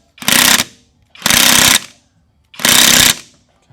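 An impact wrench drives a socket in three loud, rapid hammering bursts, each about half a second long and separated by short pauses.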